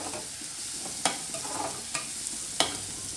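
Onions frying in a pan for lemon rice, with a steady sizzle and three sharp scraping stirs of a spatula spaced about a second apart, close and moderately quiet, no voices.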